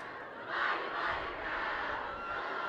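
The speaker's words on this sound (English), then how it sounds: "Browns crowd getting into it." St. Francis Browns supporters roar at a high school football game, a broad crowd din rising sharply after a half second and holding steady through the rest.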